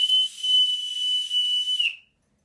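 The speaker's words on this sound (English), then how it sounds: "this whistle is very loud." A single shrill, piercing whistle blast, sustained for about two seconds, loud and close, then cut off into silence.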